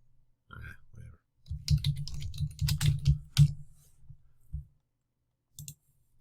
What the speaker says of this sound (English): Let me type in interactive.